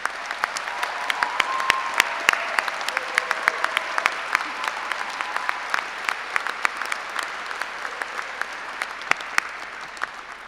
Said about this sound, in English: deserved, loud applause